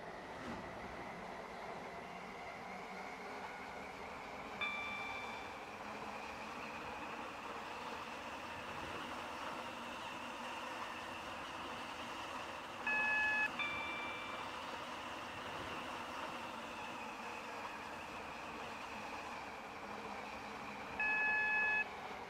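A Stepford Connect train runs in the SCR video game between Port Benton and Stepford Victoria. It makes a steady, even rumble throughout, with short electronic beeps near 5, 13 and 21 seconds and no talking.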